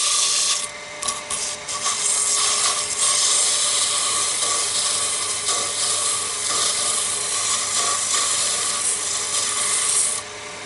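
Abrasive strips rub steadily against the inside of a wooden chess rook as it spins on a lathe, giving a continuous close, dry rasping hiss that holds level for the whole stretch with small shifts in pressure.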